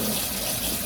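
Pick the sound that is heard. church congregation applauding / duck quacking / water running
water running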